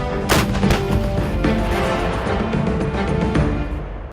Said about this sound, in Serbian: Prvo se ispaljuje kontrolni hitac, a zatim svi topovi žestoko udaraju.